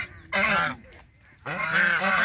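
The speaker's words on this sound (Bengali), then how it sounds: "আপনারা রাজহাঁসের ডাক শুনতেছেন" Geese honk twice in quick succession, loud and close, each call a harsh, nasal blare with a short pause between them.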